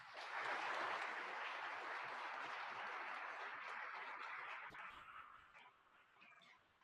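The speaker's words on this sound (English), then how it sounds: "Let's give everyone one more round of applause." Audience applause at a young professionals awards ceremony in Lubbock, a broad steady wash of clapping from a large crowd that holds for several seconds, then thins and fades out toward the end.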